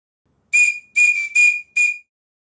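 A model steam whistle on a Stuart model steam plant gives four short, sweet, clear blasts in quick succession, loud and close with no other sound.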